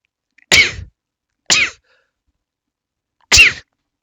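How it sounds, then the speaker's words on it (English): Three sharp, loud sneezes, close and isolated, separated by clear silences, the last after a longer pause. "Oop, got another sneeze."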